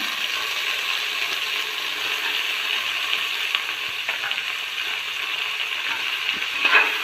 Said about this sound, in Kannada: ಇದೆಲ್ಲ ಫ್ರೈ ಆದಮೇಲೆ ಈಗ ಟೊಮಾಟೋನ ಆ್ಯಡ್ ಮಾಡೋಣ.